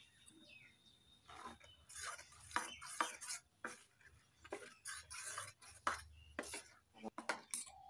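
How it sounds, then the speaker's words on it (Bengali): A ladle stirs salt into a thick coconut batter in a bowl, giving a series of irregular scraping and clinking strokes against the bowl, close and moderately loud, with a faint bird calling in the background. "এবার একটু নুন মিশিয়ে নেব।"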